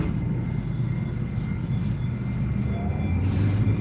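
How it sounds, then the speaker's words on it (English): An older Moscow metro train runs steadily, a continuous low rumble and rattle of wheels and carriage with a faint whine, heard from inside at moderate level. "This is an older train though."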